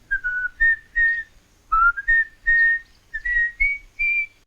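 A man whistles the tune "Jimmy Crack Corn" in clear, close, bright phrases of sustained and sliding notes, separated by short breaths.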